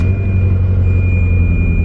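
A Ferrari engine idles roughly just after start-up, a loud, close, low rumbling drone with a slightly uneven pulse and a thin steady high whine above it.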